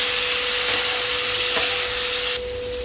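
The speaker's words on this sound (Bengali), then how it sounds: "এবার আমি কিছুটা গরম জল দিয়ে দিলাম" Hot water is poured into a pan of fried prawns and pointed gourd cooked in spices, giving a loud, close, continuous hissing rush that drops off slightly near the end.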